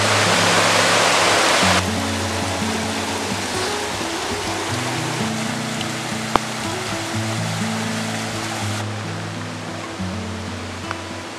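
Water of a stream flows beside a bushcraft campsite, a steady broadband rush that stays loud and unbroken throughout, with a low tonal hum alongside it and one brief click near the middle.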